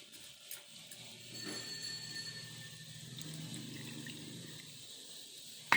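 Water is poured over ground lemon pulp and strained, making a soft, faint trickling and splashing at close range, with a brief clatter at the end.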